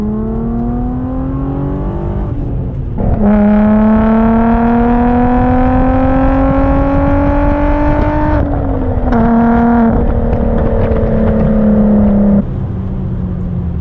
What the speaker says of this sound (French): Le bruit est beau, bah c'est pur bruit V6 en fait, hein.